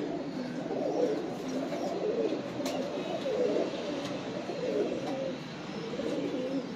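A champion pigeon of the breed called batera coos in low, repeated throaty calls, close and steady, with faint background chatter around it.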